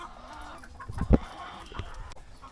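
Backyard poultry hens, part of a flock of about 200 egg layers, cluck softly nearby with a few short louder clucks and shuffling in between.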